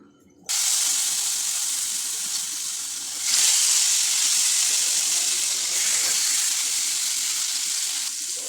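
Fish fries in mustard oil with a loud, steady, hissing sizzle. It bursts in abruptly and stays dense throughout, swelling slightly partway through, close and with no talk over it.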